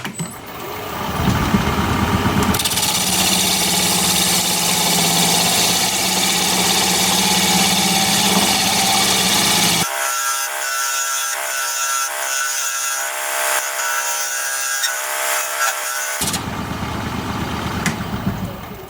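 A wood lathe turning a pedestal hums steadily while a cutting tool comes in from the side, producing loud continuous scraping and rasping cuts that shift in tone partway through.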